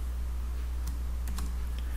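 Keys on a computer keyboard tap in a few quick, faint clusters while SQL code is typed, over a steady low background hum.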